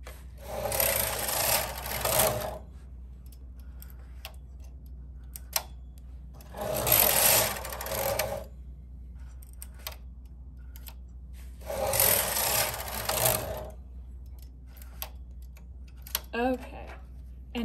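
A knitting machine carriage sweeps across the needle bed in three separate rattling, swishing passes, each a couple of seconds long with quiet gaps between, and a voice speaks briefly near the end.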